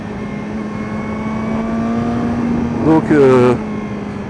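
A modified Peugeot 103 moped with reworked intake, exhaust and pipe drones steadily at a constant pitch while riding on a smooth road, loud and close, with someone speaking briefly over the engine.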